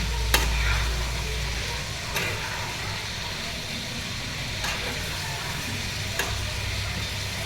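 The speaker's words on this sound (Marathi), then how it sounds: "तेलामध्ये सगळ्या भाज्या परतून घ्यायच्या" Steady sizzling of vegetables sautéing in oil, a continuous crackle with a few sharp spatula taps and a low rumble underneath.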